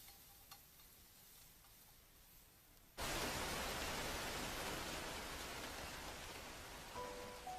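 Rain sets in abruptly after a quiet stretch, becoming a steady, dense hiss of downpour on surfaces that continues evenly without voices.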